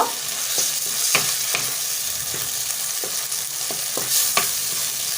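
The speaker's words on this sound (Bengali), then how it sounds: "আলুগুলো খুব সুন্দরভাবে মশলার সাথে মিক্স করে নেব" Potatoes stirred into spice masala frying in a pan for a cauliflower and egg curry, with steady sizzling and repeated scraping strokes of the spoon, close and clear with no talking.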